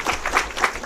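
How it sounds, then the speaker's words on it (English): Audience applause at a medical research paper launch event, a brief burst of steady clapping from a modest crowd, fairly close and even throughout with no voices over it. "So I think there's a round of applause for some great comments"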